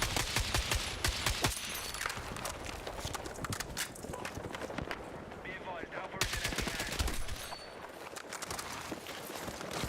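AK rifle fire in the video game Battlefield 6 crackles in rapid, dense volleys that are nearly continuous, with a brief lull partway through, set against a busy battlefield backdrop.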